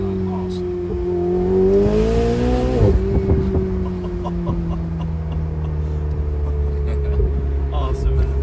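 A Ferrari with a dual-clutch gearbox accelerates, its engine tone climbing steadily before a near-instant upshift drops the pitch at about three seconds, then pulling again at a lower drone, heard from inside the cabin.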